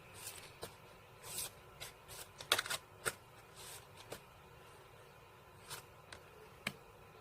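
A tarot card is drawn from a deck, giving soft scattered rubs, slides and light taps of card stock, quiet and close, with a few sharper flicks.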